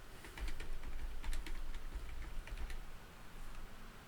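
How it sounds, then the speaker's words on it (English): Typing on a computer keyboard while writing web page code, a quick irregular run of close, crisp key clicks with short pauses and no talk. "So now I can go ahead and start typing."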